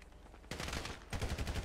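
Gunfire aimed at zombies in a modded GTA 5, starting as a faint rumble before two close bursts of rapid shots break out.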